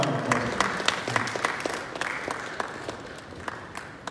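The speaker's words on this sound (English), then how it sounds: "Give them a round of applause." Audience applause for student election candidates at a university question-time event, with scattered sharp claps that thin out and fade toward the end.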